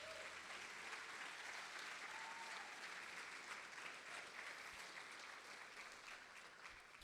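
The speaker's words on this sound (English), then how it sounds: "Please give her a warm round of applause." Audience applause at the 2025 Frosty Awards ceremony, a steady, even patter of many hands clapping that stays faint and distant for several seconds without a break.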